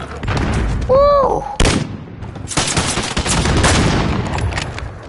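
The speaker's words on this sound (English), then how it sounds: "That was like 8 shots with the fire shotgun bullets and didn't get a single hit off." Gunfire in Call of Duty Modern Warfare, a shotgun loaded with incendiary fire rounds, sounding as a dense burst of loud blasts. A rising whistling tone runs through it near the one-second mark.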